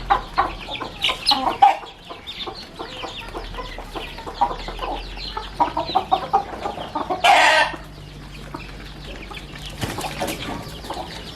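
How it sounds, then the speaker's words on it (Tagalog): Chickens cluck and squawk in agitated bursts, with flurries of flapping wings and scuffling, close and busy throughout. "Ayun ako yung dalawang manok dun, nagsasabong sila."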